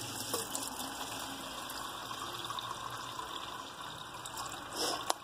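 Water pours steadily from margarine tubs into a container for a plaster mix, a continuous close splashing trickle that swells briefly near the end.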